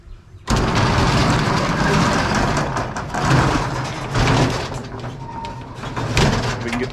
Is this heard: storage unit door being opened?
yes